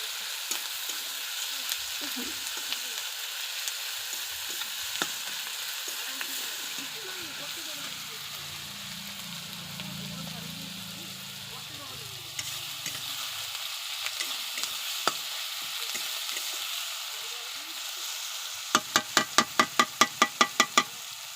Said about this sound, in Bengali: এরকম নাড়াচাড়া করে সুন্দর করে অল্প জ্বালন দিয়ে কিন্তু এটাকে ভাজতে হবে। পেঁয়াজটাকে গলাতে হবে।